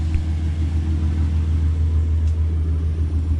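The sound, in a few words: car engine started, idling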